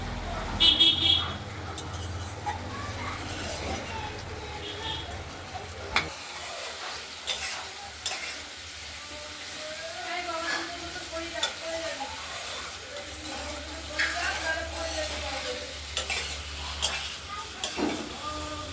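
Spices fry in oil for a katla fish curry with potato and tomato, making a soft, ongoing sizzle broken by stirring clatter, with faint background voices and a distant car horn.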